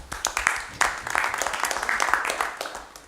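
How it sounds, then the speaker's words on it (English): A crowd claps steadily for a few seconds, a dense patter of many hands, moderately loud and uninterrupted by speech. "So give yourselves a big round of applause."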